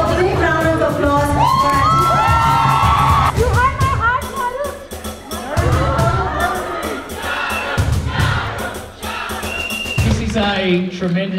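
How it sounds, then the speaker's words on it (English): A film festival opening-night crowd cheers, whoops and yells loudly and close, with voices rising in waves over a rough wash of clapping that swells and dips across eleven seconds. "Can we have a big round of applause?"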